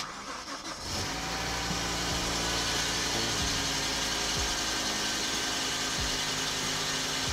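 A BMW M5 engine cranks and fires up, then settles into a smooth, steady idle with a faint periodic tick, running loud and close with no talk over it after fresh ignition coils were fitted.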